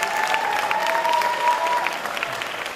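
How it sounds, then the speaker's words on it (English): An audience claps steadily, a dense sustained round of applause with a faint tone humming underneath. "Give him a round of applause."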